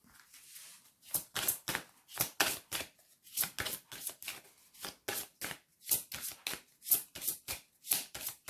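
A deck of tarot cards riffled and shuffled by hand in quick rhythmic bursts of crisp papery flutter, over a dozen in a row, close and clear with short pauses between them.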